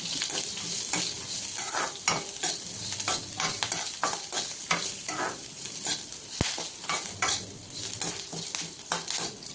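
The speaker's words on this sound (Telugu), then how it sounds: "అలాగే 1 అరకప్పు వరకు పొడవుగా కట్ చేసుకున్న ఉల్లిపాయ ముక్కలను కూడా వేసి కాస్త కలర్ మారినంత వరకు వేయించుకోవాలి" Long-sliced onions fry in a pan for capsicum chutney, a steady sizzle broken by frequent scraping and stirring strokes of a utensil, close and fairly loud throughout with no talking.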